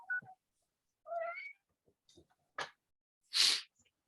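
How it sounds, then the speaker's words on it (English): A domestic cat meows several times, close and moderately loud, its short tonal calls spaced apart and mixed with a sharp sneeze-like burst, with near silence in between. "And then the cat go meow."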